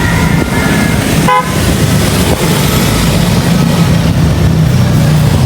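Busy road traffic on a school and work day on the way to Angeles City, with a loud continuous engine rumble and a short car horn toot sounding about a second in.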